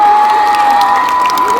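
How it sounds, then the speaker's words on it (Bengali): Crowd at a book fair concert in Jangipara cheering and clapping for a singer, a loud dense roar of applause and shouts filling the short stretch, with a steady whistle-like tone running through it. "একটু জোরে হাততালি।"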